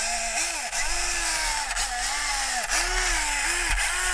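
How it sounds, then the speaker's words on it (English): An RCAWD 2-speed motor and transmission in an SCX24 RC crawler whirring noisily, a close, continuous high mechanical whine whose pitch rises and dips repeatedly as the motor speeds up and slows. "It's just a noisy, noisy transmission setup."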